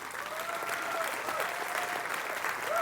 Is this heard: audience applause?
yes